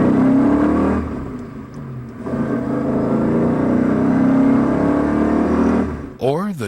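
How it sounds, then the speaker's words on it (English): A BMW engine drones steadily and loudly under acceleration, its pitch holding and surging for several seconds before a rising whoosh at the end. "Listen to the excited song of a BMW engine as it accelerates."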